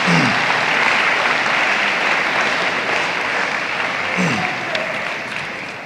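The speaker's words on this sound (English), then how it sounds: "would you please give them a round of applause?" A crowd at a high school football banquet applauds steadily and loudly throughout, a dense wash of clapping with a faint voice or two underneath.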